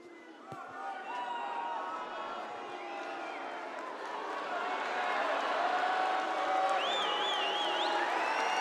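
A crowd at a strongman log lift cheers and whoops as the roar gradually swells and intensifies, with a commentator talking over it.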